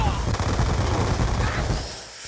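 MP7 fire in Black Ops 2 rattles in a continuous rapid burst, loud and dense, and it fades near the end.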